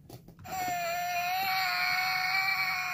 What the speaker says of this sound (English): And it makes noises where she's crying.